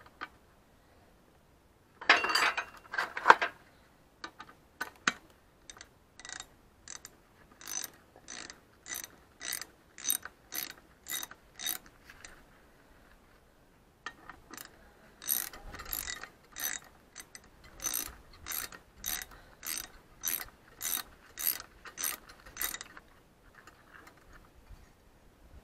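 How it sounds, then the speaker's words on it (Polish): Dipstick being unscrewed from a 1947 Zetor 25 tractor engine during disassembly, a string of dry metallic ratcheting clicks and scrapes in uneven bursts, fairly quiet and close, with no talking. "wykręcimy jeszcze bagnet."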